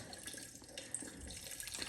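Plain water is poured into a motorcycle's cooling system, making a faint, quiet trickle and splash that runs continuously for a couple of seconds.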